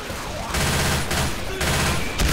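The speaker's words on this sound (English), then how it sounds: "Can we not shoot each other?" Gunfire from Left 4 Dead 2 on the beta Cold Stream campaign: three sustained bursts of rapid shots with brief pauses between them, loud and close, with no talking.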